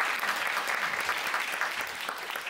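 A lecture audience at a Kyobo Bookstore talk on the Korean economy breaks into dense, sustained applause, a close wash of many hands clapping without pause, a faint voice briefly underneath.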